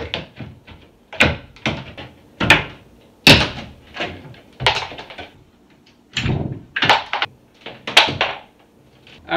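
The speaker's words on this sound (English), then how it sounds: "After the casing's off, we can pull the door jamb." A wooden door jamb is pried and pulled from a doorway during a renovation, giving a series of sharp, close knocks and cracking thuds in irregular bursts with short quiet gaps between them.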